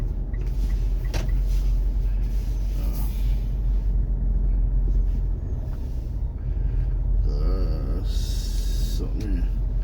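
Morning rush-hour traffic on Mango Avenue in Cebu City, with jeepneys among the vehicles: a steady low rumble of engines and passing cars, hissing brakes and a brief horn-like tone, with people talking over it throughout.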